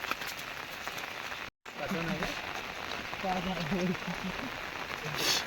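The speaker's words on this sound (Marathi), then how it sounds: "पाऊस पण खूप आहे" Steady heavy rain hisses on surfaces throughout, with a brief dropout, while people talk under the downpour on a walk to the crab-catching grounds.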